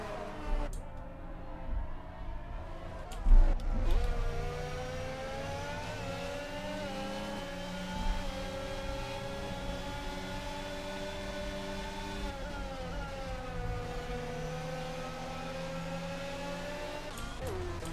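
Several race cars in a sim racing game at a Brazil circuit, engines droning steadily with harmonic whine that shifts pitch as they run side by side through corners, one sharp bump partway, with no talk over it.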